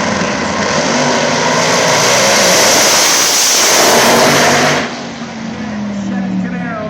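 A Chevy Camaro drag car makes a pass of about 205 mph at the PDRA World Finals, its engine a loud, dense roar that builds and then cuts sharply to a lower rumble. An announcer talks over it.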